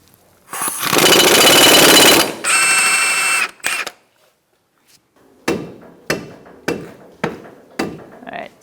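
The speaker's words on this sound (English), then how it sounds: "I'm going to take our axle nut off." Impact wrench rattles loose the front axle nut on a 2004-2009 Mazda 3 through a 32mm axle socket: a long loud burst, a shorter second burst, then a string of sharp ratcheting clicks, close up.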